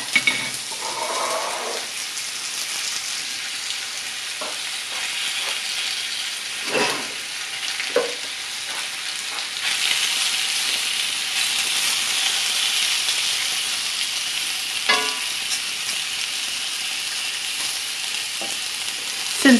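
Rehydrated dehydrated potatoes searing in a frying pan, a continuous loud sizzle and hiss with occasional stirring scrapes and pops, close up, no talking.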